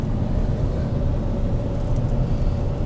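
Steady low rumble of a car passing in light traffic on a snowy road, continuous and moderately close with no talk over it.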